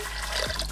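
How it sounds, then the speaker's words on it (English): Water poured into a pot while making masala chai, a short steady liquid splash and trickle with a rising fill tone, close and fairly quiet. "the first thing we're gonna do is add 6 cups of water"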